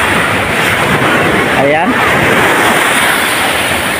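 Surf waves rolling in and breaking on a beach at a surfing spot in San Juan, La Union, a constant loud wash with wind noise on the microphone, while someone talks over it.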